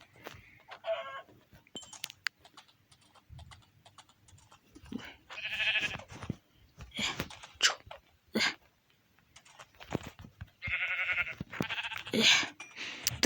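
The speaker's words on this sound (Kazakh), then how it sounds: "мынада қара қойларды аулай тұрайын" Black sheep bleating in a village farmyard, several separate close bleats rising out of quiet, with scattered knocks and other livestock sounds between them.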